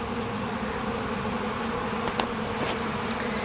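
Honeybees feeding on pollen substitute set out between nectar flows, a steady close hum of many wings, continuous and even, with a few faint clicks partway through and no talk.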